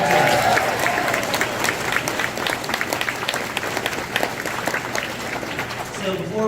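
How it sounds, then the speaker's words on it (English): Audience applause at a beginning orchestra's spring concert, a dense, fairly loud crowd clapping that holds steady, with a voice speaking over it near the end. "let's give them another round of applause."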